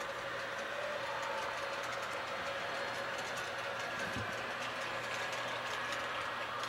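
Model railway trains run on a large layout with narrow gauge track, giving a faint, steady mechanical hum and drone that stays even throughout with no talking over it.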